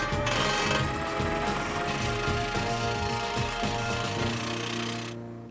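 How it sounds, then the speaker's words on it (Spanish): A rock drill bores into rock at a blasting site, hammering loudly and continuously, a harsh rapid pounding with grinding metallic overtones, close by, fading slightly right at the end. "Este es el equipo que usamos para taladrar la roca."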